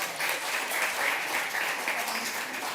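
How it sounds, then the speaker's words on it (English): Wedding guests at The Addison of Boca Raton applaud in a steady, dense wash of clapping that holds for the whole stretch at a moderate, even level with no voices standing out. "Give them a round of applause,"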